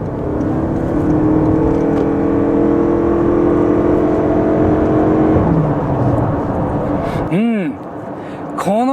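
A Toyota Crown Crossover (AZSH35) at full throttle, merging onto a highway from about 50 km/h: a loud, steady cabin drone with rising engine tones, then a shift in pitch near the end.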